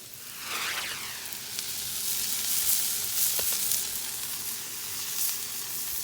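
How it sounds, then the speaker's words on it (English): Onions hit a hot pan and start sizzling, a bright steady hiss that swells just after they go in and keeps crackling softly, with no talking. "Got them onion on there. They're going to start that sizzling."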